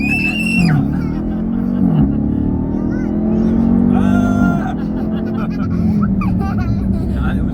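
A car engine roars steadily, deep and throaty, with revving pitch rises and falls, loud and close, while people talk over it.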